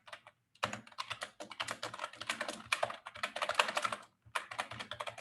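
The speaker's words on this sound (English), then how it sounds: "my keyboard is a bit loud" A loud computer keyboard clatters with rapid, dense typing in bursts separated by brief pauses, close up with no talk.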